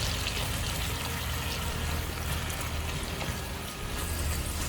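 Apples cooking in butter in a pan make a steady, close hiss and sizzle that holds evenly for a few seconds, with no talking.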